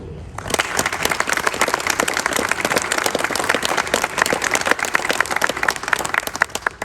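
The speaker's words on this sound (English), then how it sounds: "join me in a round of applause for soldiers and leaders in front of you on this field" A crowd on an outdoor parade field at a US Army change of command ceremony applauds the soldiers, loud, crisp and continuous clapping from many hands that starts abruptly and holds steady throughout.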